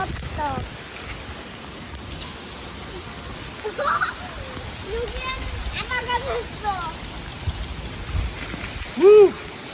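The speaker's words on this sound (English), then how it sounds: "I think it's just raining a little bit." Light rain falling outdoors, a soft steady patter running throughout beneath lively talking and whooping voices of adults and children.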